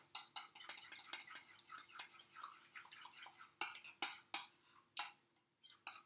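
A spoon stirs a salad dressing seasoned with salt and pepper in a bowl, giving a quick series of faint, close clinks and scrapes that are irregular and separated by short pauses, with no voice.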